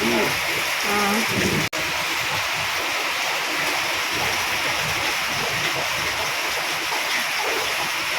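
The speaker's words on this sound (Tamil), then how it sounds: "மழை பரவாயில்ல, கொஞ்சம் நல்லா தான் பெய்யுது." Steady rain falling outdoors during a rainy spell, a continuous broadband hiss of drops close by with one brief sharp knock early on and no talk over it.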